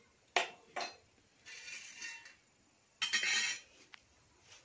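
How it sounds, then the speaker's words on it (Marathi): Fried vadas go into a pot of boiling curry (kalvan) on a village wood-fired stove, heard as a few sharp metallic clinks and clatters of utensil against pot, then a longer rattling scrape, with quiet gaps in between. "मग आता आपण सगळे वडे टाकू त्याच्यात."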